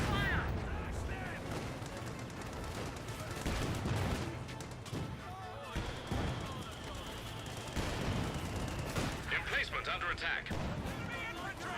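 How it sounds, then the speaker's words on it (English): Panzerfaust strike on an AEC armoured car in Company of Heroes 2, buried in a dense mix of battle gunfire and explosions that runs throughout, with a commentator talking over it. "He gets the Panzer Faust on this AEC."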